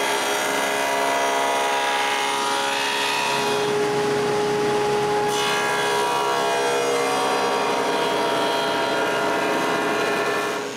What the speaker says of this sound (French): sur tous les côtés extérieurs, je coupe une feuillure à l'arrière pour leur fond